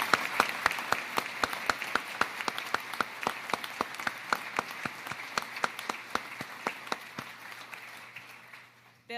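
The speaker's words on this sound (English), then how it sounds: "How about a big round of applause for them and all you're about to do?" Steady applause from a ceremony audience at a naval change of command, many hands clapping in a dense, even patter that carries on for several seconds before fading out.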